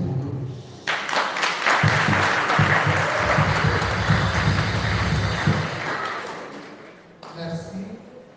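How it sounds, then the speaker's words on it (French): Congregation clapping during a French Catholic Mass, a broad sustained roar of applause with low rumble underneath, lasting several seconds before dropping away, followed by a short burst of noise near the end. "Applaudissez pour nous."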